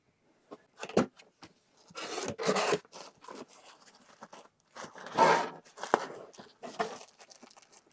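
Unboxing a Team Associated Reflex MT ready-to-run RC truck: close, intermittent crinkling, rustling and scraping of cardboard and plastic packaging in short irregular bursts with quiet gaps between, no speech.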